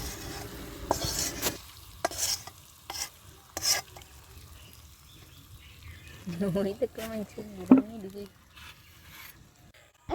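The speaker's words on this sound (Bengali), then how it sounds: "এখন হালিমের মধ্যে ফোড়নটা দিয়ে দেব" Tempering (phoron) poured into a pot of Bangladeshi haleem cooked for iftar, with a few sharp clatters and scrapes and then a short burst of hot-oil sizzle, all fairly faint and close.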